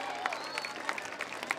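A seated audience at a school function in Banahatti applauds to welcome a guest, with steady moderate clapping and a few sharper individual claps standing out near the microphone.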